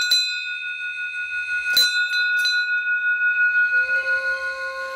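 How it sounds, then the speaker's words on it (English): A hand bell rung on a road in Japan to scare off bears: two or three bright metallic strikes with long ringing tones that hang and slowly fade, close and clear with no talk. "This bell is for scaring off bears."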